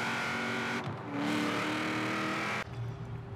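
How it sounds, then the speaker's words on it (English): A Ford Mustang Cobra R does a burnout in the Forza racing game, its engine roaring loud and steady with a shift in pitch partway through. "Oh, listen to that burnout."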